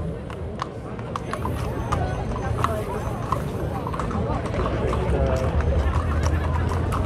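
Icelandic horses walk in an Eggeabtrieb procession, their hooves clip-clopping steadily on hard ground for several seconds while a crowd chatters and a voice talks over the scene.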